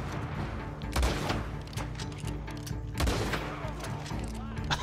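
Rifle shots in the stealth game Dishonored: two heavy, booming reports about two seconds apart, each followed by a rumbling tail, over a steady game background while someone talks.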